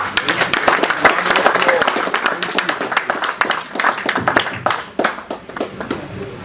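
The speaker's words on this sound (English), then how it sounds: "Big round of applause for a wonderful presentation" An audience at a Kenya Diaspora Homecoming Convention session claps for a presentation, dense close applause that thins into scattered individual claps toward the end.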